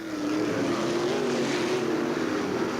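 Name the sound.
race cars starting a heat race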